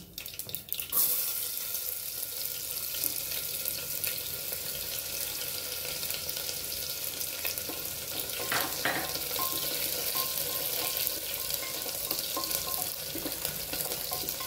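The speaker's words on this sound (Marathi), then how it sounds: "कांदा थोडा परतून घेऊ" Continuous close sizzling of onion sautéing in hot oil with mustard seeds, steady throughout with occasional louder bursts and scraping.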